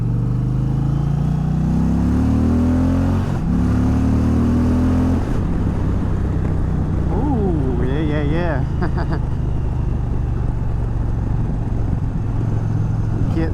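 Indian Challenger Dark Horse bagger motorcycle pulling away after a shift into second gear, with a loud, close engine drone that rises in pitch, drops at the shift and then builds again under wind noise.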